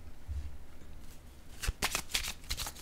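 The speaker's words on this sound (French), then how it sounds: "je vais déposer une carte sur la patience" A tarot card is set down on a table during a reading: a few crisp card slaps and rustles close by, brief and alone with no talk.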